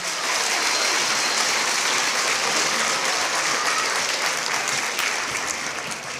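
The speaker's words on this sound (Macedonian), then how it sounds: "Ќе ве замолам за еден аплауз за сите просветни работници." An audience at a school patronage day celebration claps for education workers, dense sustained applause that stays loud and even throughout.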